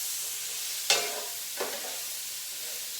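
A hot pan of beef stroganoff sizzles steadily while a utensil gives it two quick stirs, the first scrape sharper and louder than the second, with no voices.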